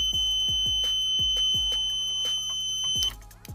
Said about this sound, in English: when I press this button on, both of these lights are gonna illuminate and we're gonna get a beep.